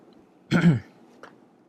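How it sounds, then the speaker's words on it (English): One short, gruff throat clearing up close, followed by a faint brief vocal sound against quiet room noise. "now I'm burping and clearing my throat"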